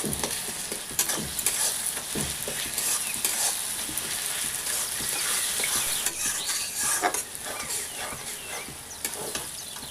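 Ginger garlic paste fries with onion in a pan for a chicken liver and gizzard curry, giving a constant close sizzle with scraping stirs throughout and no voices.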